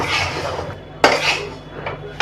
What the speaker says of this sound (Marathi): आपलं बेसन आता भाजत आलेलं आहे मस्त चांगलं असं भाजत आहे त्याला फिरवतच राहायचं